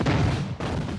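A single cannon shot from a battle of the Vendée wars lands as a heavy, rumbling boom that decays and is followed by a second muffled thud.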